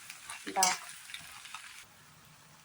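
Chow mein with eggs and spices stir-fries in a pan, a soft sizzle broken by a sharp scrape or toss of the utensil near the start, then quieter frying.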